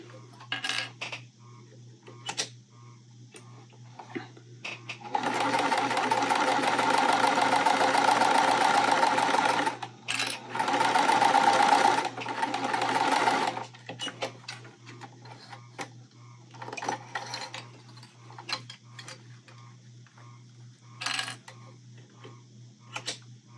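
A sewing machine stitches quilt pieces, running in two steady, loud whirring bursts at close range, with small clicks and handling noises around them over a constant low hum.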